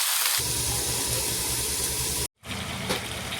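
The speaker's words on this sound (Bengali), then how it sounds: "একটু ভেজে দিই।" Vegetables and a fish head, seasoned with salt and turmeric and with no water added, fry in a pan, giving a loud, close, continuous hiss that stops briefly and then resumes, with no talking.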